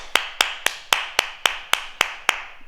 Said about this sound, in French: On s'applaudit.